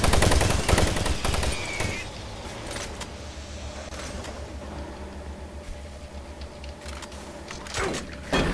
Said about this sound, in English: That's how you use a shotgun.